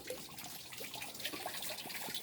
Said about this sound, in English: I'm going to turn off the water.